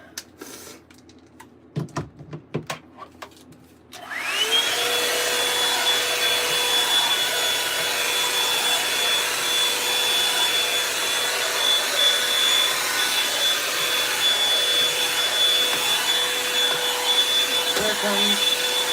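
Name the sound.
hair dryer blowing out hair before Revlon brush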